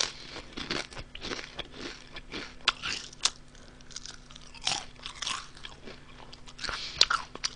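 Honey butter potato chips crunch loudly and close up as someone eats them, with repeated crisp bites and chewing crackles coming in irregular bursts.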